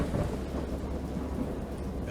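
A thunderstorm rumbles with steady heavy rain, dense and loud throughout, with no voices.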